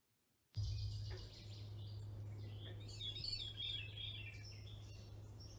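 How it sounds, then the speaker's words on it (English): Several birds chirp and trill in bright, overlapping bursts in woodland on a summer morning at Sapsucker Woods, over a low, steady hum, with no voices. "summer mornings are filled with birdsong"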